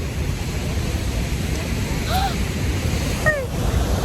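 Huka Falls in New Zealand sends up a constant, broad roar of rushing water, heard at moderate loudness with wind buffeting the microphone. A few faint chirps sound over it, and people talk nearby.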